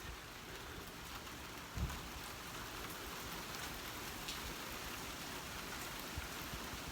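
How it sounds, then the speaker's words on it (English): Steady rain falls outside in a dense, even hiss on surfaces, with faint distant rumbles suggesting thunder and no voices. "it started to rain"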